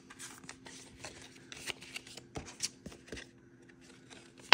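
Paper cash rustles and flicks as bills are stuffed into a savings envelope, soft close crinkling in irregular bursts, quiet and alone.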